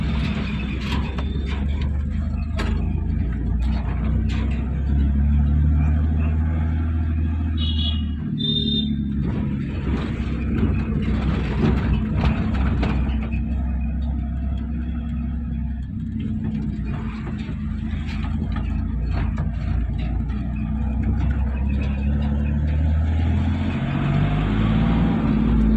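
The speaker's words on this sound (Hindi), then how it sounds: "उसकी गाड़ी चला रहा हूँ अभी मैं" An Ashok Leyland vehicle driving on a road, its engine giving a steady low rumble throughout, with continuous road noise and no talk.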